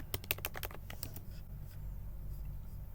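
Quick bursts of clicky computer keyboard typing, close and crisp, fading into quiet room noise after about a second.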